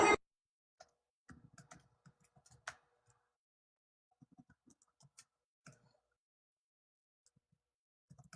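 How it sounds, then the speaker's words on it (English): Scattered bursts of keystrokes on a computer keyboard, quiet and close, come in short irregular clusters with long silent gaps between them, opening with a brief sharp click. "Sorry, I'm typing."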